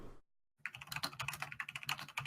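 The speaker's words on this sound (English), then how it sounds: "Please stop typing. Why are you typing?" Fingers type quickly on a computer keyboard in a dense run of close, crisp clicks. The keys start after a brief silence and continue steadily to the end, with no one speaking.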